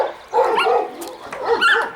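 A Central Asian Shepherd dog, a large breed brought in from Kyrgyzstan, gives two loud, deep barks up close in quick succession.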